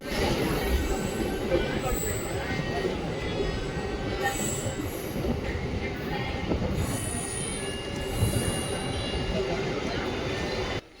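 A MEMU express train pulls into Koramangala railway station, its wheels squealing loudly and its carriages rumbling steadily throughout, close and continuous.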